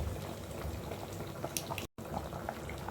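A fish head curry of rock fish simmers in a pot, giving a steady close bubbling and liquid churning with brief splashy pops, broken by a moment of near silence.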